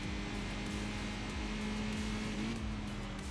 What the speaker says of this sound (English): you can hear the little inline 4, very high revving little 2-liter engine